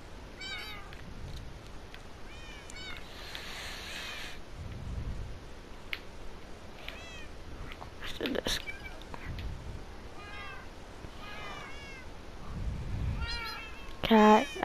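A cat meows several times in short, rising calls spread across the stretch, fairly close and moderate in loudness, with some chirps and background noise between them.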